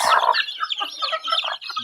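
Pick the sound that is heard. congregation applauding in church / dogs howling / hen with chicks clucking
hen with chicks clucking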